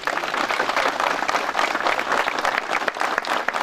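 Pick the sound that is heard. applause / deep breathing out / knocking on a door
applause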